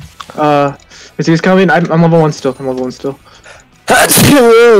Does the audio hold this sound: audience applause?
no